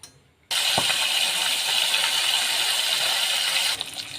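Pomfret coated in salt and turmeric hits hot oil in a pan with a sharp clatter, then a loud, steady broadband sizzle runs on continuously before easing slightly near the end.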